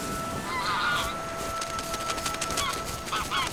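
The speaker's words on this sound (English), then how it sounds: "In autumn, many migratory birds stop over here." Migratory geese honk in autumn at Hulun Lake, a northern Chinese lake, with several distant overlapping calls rising over steady wind and water noise, fairly faint.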